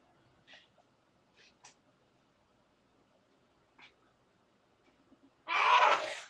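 A single loud sneeze bursts out near the end of an otherwise quiet room, following a few faint scattered noises.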